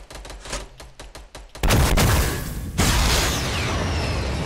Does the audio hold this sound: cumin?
no